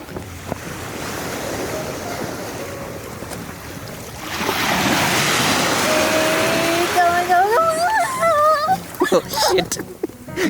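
Ocean waves wash onto a beach in a windy open-air hiss that swells louder halfway through, while voices and rising, warbling tones sound over the surf near the end.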